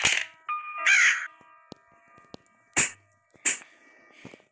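Harsh caws from a crow in the Granny escape horror game, a few sharp bursts spaced across the moment with small clicks and knocks between them, fairly close and with no talking.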